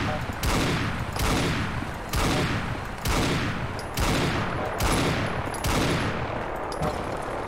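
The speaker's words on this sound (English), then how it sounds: "you're shooting at me now" Fallout 4 gunfire: loud, close bursts of rapid shots repeating about every second, with a brief gap between each burst, and faint talk underneath.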